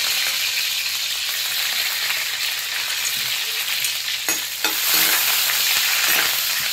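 Garlic, mustard seeds and cumin frying in coconut oil, a loud continuous hissing sizzle heard up close, with a few stirring clatters near the end and no voices.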